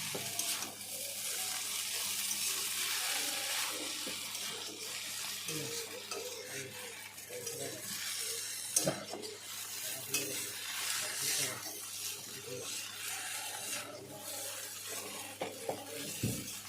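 Home-style chowmein being stir-fried in a pan: a steady, close sizzle of frying noodles with scraping and stirring clatter throughout, no talking.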